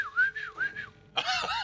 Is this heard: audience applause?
no